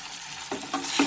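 Spoon strokes scrape through chicken curry with cumin, Kashmiri red chili and turmeric in a hot pan, three quick stirring swishes over a soft sizzle.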